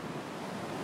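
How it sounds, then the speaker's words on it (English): Stormy ocean surf crashing with strong gusting wind buffeting the microphone, a loud, continuous broadband roar with no voices. "The wind is nuts."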